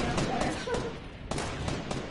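Distant sniper rifle shots in Fortnite, a few separated cracks echoing faintly at a distance.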